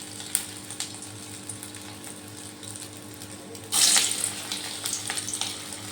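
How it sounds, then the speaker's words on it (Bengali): Shrimp kofta balls dropped into hot oil, a sudden loud sizzling hiss that then settles into steady crackling frying. "এই যে এখান থেকে এরকম গোল গোল করে নিয়ে তেলের মধ্যে দিয়ে দিচ্ছি।"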